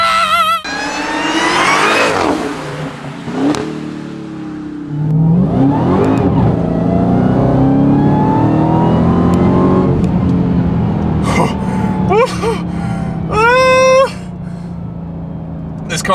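A 797-horsepower 2021 Dodge Charger SRT Hellcat Redeye Widebody revs hard and pulls through a brief burst of acceleration, the engine note rising loudly before easing off. Several sharp throttle blips follow near the end, with some talk mixed in.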